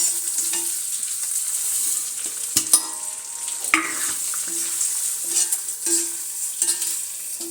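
Seeds and dry fruits dry-roasting in a pan over low heat for protein laddus, giving a soft continuous hiss under repeated spoon scrapes and light rattling as the mixture is stirred.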